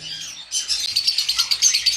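Cockatiels, including cream and red-eyed mutation birds, chirping and twittering in a bird room, a dense run of bright, rapid calls starting after a brief quiet moment.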